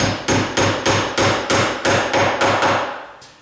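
A hammer taps lightly against a wooden door during condo renovation work, striking about ten times in a steady, even rhythm, each blow sharp and close.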